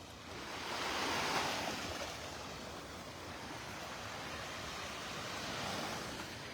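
Ocean waves roll onto a beach in North Naples, Florida, a continuous broad wash of surf with a slight swell early on and light wind noise, steady and moderately distant.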